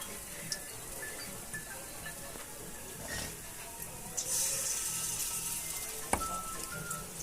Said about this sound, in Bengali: আজকে দেখো পুঁই শাকের বড়া ভাজছি